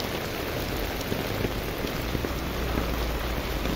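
Steady heavy rain pours down in a dense, even hiss during flooding in Recife, Brazil, with scattered drops pattering on surfaces, constant and moderately loud, no talking.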